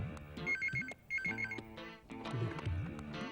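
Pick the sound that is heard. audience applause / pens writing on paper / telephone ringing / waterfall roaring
telephone ringing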